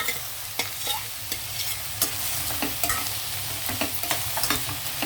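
Chickpeas, green peas, green chillies and tomato fry in a pan for spinach pulao, a steady sizzle under repeated scrapes and clicks of a spoon stirring, close and fairly loud with no talking.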